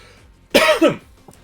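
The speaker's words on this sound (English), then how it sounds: "3 coughs" A short burst of coughing in a live pub quiz setting, two quick harsh coughs close to the microphone, clear and loud against a quiet background.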